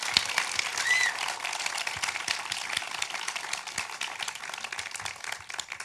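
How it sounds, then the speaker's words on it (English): Audience applause for a guest at a midterm election recap talk, a steady wash of many hands clapping for about six seconds at moderate level, with no speech over it. "can you give one more round of applause to our guest for today?"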